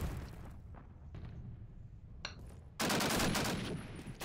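Sparse gunfire cracks in Call of Duty: United Offensive give way to a sudden, loud frag grenade blast that roars and rumbles for over a second before fading.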